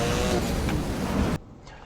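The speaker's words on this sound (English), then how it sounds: "I am racing a Koenigsegg" A Koenigsegg roars steadily through a race in a Need for Speed game, the dense engine drone holding loud and constant before dropping abruptly to a quieter hum near the end.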